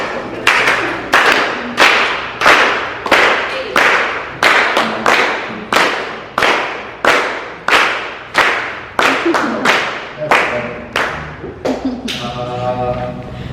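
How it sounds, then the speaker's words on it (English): A group claps in unison at an artist's studio session, sharp loud synchronized claps about every two thirds of a second, roughly twenty in a row, trailing into a brief tonal sound at the end. "Who can clap their hands?"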